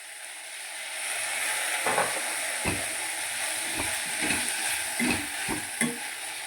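Steady sizzling of two chopped tomatoes frying in oil in a pan for an eggplant curry, with repeated scraping strokes of a spoon stirring through it at an irregular pace.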